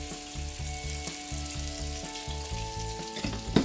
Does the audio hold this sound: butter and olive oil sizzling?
yes